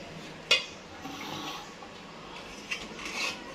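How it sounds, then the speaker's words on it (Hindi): Ice cubes dropped into a glass of lassi, giving two sharp clinks about two seconds apart over a soft kitchen background with no one talking. "तो अब इसमें ग्लास में डालेंगे बर्फ।"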